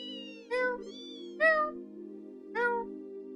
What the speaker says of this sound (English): I love cats.